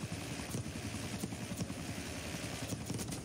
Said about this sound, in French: Une fois qu'il m'a exécuté, je reprends l'hélicoptère.